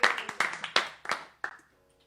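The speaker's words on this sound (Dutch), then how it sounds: "Een applaus voor de andere kamer ook." A handful of separate, distinct hand claps ring out close by during a Christmas livestream, five or six sharp slaps at an uneven pace that then stop, leaving a quiet room tone.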